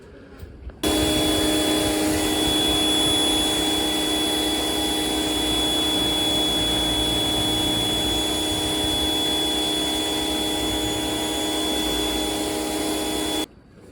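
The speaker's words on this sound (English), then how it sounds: "This little cheapy power washer's not all that good, but" A cheap, small power washer runs and sprays water against an outside wall, a loud constant droning whine with a steady tone that starts abruptly, holds for about thirteen seconds, then cuts off.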